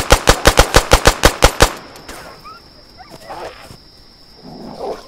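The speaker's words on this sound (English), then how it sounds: "I landed most of those shots, I think." A rapid string of about ten sharp, loud gunshots in DayZ, evenly spaced and close, followed by quieter rustling and faint animal-like growls.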